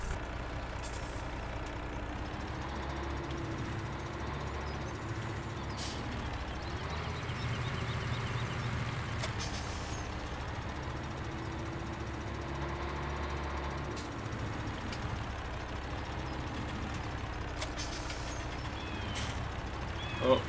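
Lorry engine in Farming Simulator 2017 rumbles steadily throughout, with faint reversing beeps and occasional air-brake hisses, and a voice talks now and then beneath it.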